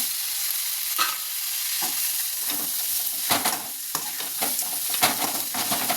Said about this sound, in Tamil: தக்காளியும் போட்டுக்கலாங்க